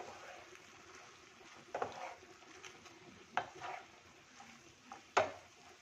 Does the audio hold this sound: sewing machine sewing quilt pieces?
no